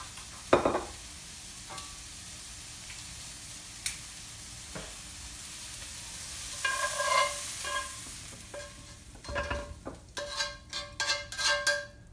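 Liver cooking in a pan on medium-high heat, with a steady faint sizzle broken by scraping and clinking as it is stirred and turned, the metallic utensil taps growing busier toward the end.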